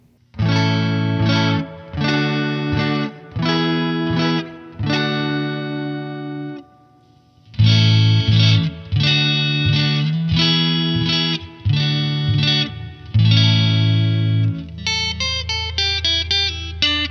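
Electric guitar chords run through a single-knob chorus effect on a BOSS EQ-200 pedal, strummed in loud repeated bursts with short pauses, then a quicker picked run at the end, shimmering and alone.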